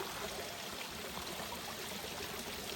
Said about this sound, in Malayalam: സ്റ്റെപ്പായിട്ട് വെള്ളം ഒഴുകി പോകണം.